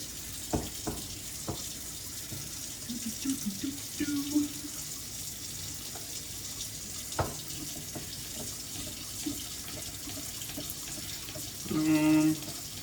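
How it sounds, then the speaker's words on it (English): A kitchen sink tap runs very hot water steadily with a constant watery hiss, accompanied by occasional clinks and knocks nearby and a short low hum near the end. "I usually just run the hot water because the hot water here is insanely hot"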